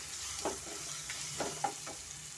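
Green chillies frying in a pan for mushroom biryani, a steady soft sizzle with a few brief stirring scrapes, close and without voices.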